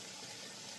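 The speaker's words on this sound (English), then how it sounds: "low rolling boil." Pot of broccoli and Brussels sprouts in water at a low rolling boil on a stovetop, giving a steady, even bubbling hiss that runs the whole moment without pauses or voices.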